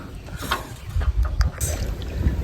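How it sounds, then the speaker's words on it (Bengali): Water sloshes and splashes in uneven strokes close by, with creaks and knocks like oars working a small boat on a village pond; no voices. "এখন এই নৌকাতে চেপে একটু রাউন্ড দেব"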